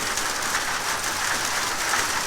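Small hail from a summer thunderstorm pelts the ground in a dense, steady patter, a continuous close-up hiss and clatter with no voices.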